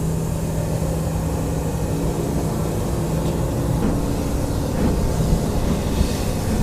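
The Bury steam train pulls away, a steady low rumble of engine and carriages rolling continuously at moderate loudness with faint clanks and no voices.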